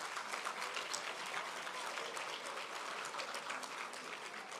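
Audience applauding at an Outstanding Father Awards ceremony in Jamaica, a steady, dense wash of clapping that holds evenly throughout, with faint voices mixed in underneath.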